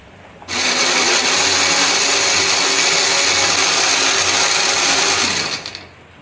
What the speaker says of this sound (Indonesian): Di sini aku akan menghaluskannya menggunakan blender.